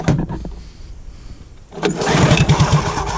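An old hovercraft engine cranks with a choppy, sputtering rhythm, pauses briefly, then catches into a loud, ragged burst of firing as it tries to start, close and alone.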